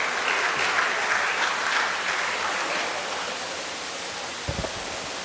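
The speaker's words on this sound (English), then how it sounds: "Please, a round of applause." An audience at a memorial lecture applauds a guest speaker, a dense sustained round of clapping that gradually fades, with a couple of thuds near the end.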